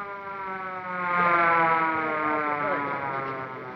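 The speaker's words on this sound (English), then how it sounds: "Ah, it's just an ambulance." Ambulance siren from a 1938 film soundtrack, a loud steady wailing tone that swells and dips slightly over several seconds.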